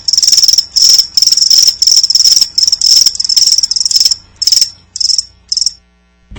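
Loud, close cricket chirps in rapid bursts that come in a steady rhythm, then thin out and stop near the end, with no voices.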